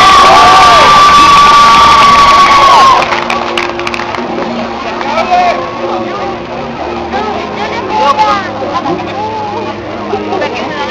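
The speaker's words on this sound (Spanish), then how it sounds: "Vamos, fuerte el aplauso." Crowd at a cosplay contest during a concert in Guatemala cheers, whoops and applauds loudly, with children's shouts, a sustained roar that eases slightly but continues throughout.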